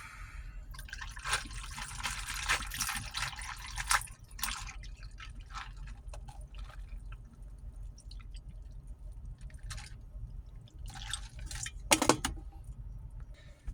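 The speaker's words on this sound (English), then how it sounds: "I'm going to go ahead and crack that open and get it poured here." A drink can cracked open and poured, giving a close fizzing, trickling pour in bursts with a brief sharp hiss near the end, no speech.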